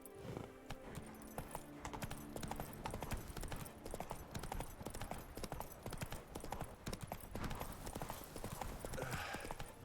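A horse's hooves clip-clop steadily in The Witcher 3: Blood and Wine, a continuous rhythmic trot over ground mixed with game ambience and faint background music.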